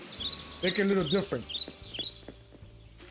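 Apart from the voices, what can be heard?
bird sounds in the video game Animal Crossing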